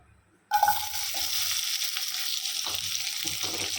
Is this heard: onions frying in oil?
yes